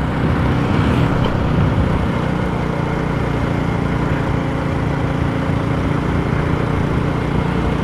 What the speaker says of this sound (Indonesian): Knalpotnya ya berisik sekali itu. Motor GL itu.